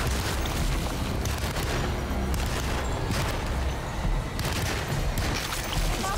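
Gunshots in the video game Alone in the Dark: dense bursts of weapon fire and booming impacts over loud, continuous game noise, with several sharper blasts spread throughout.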